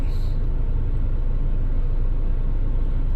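A 2006 Nissan X-Trail engine idles at a steady low rumble, loud and close, constant throughout without rev changes.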